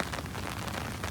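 Rain falls steadily on an open farm field in a dense, even hiss of drops, close and continuous with no voices over it.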